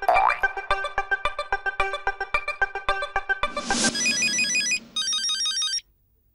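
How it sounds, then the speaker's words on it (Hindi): A phone call is being placed: a steady, rhythmic electronic ringing tone repeats many times, then shifts into a warbling melodic tune before cutting off abruptly. "मैं उनको कॉल करता हूँ।"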